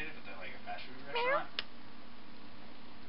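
A single short cat meow, faint and close, in an otherwise quiet room.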